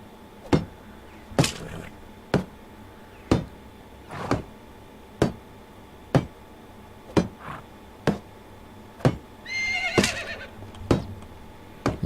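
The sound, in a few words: horse mare neighing in Medieval Dynasty video game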